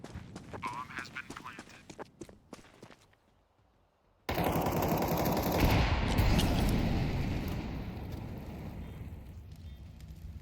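Gunfire in the video game Counter-Strike during a competitive match on a bomb site: sharp rattling bursts, then a pause, then a loud sustained barrage of shooting and noise, close and dense.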